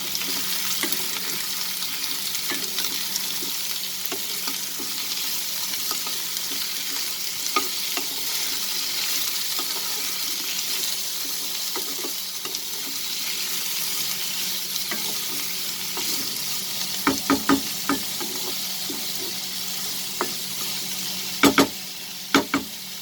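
Potatoes and spinach fry in a pan while being stirred: a continuous close sizzle runs throughout, with sharper scraping clicks of the spoon near the end.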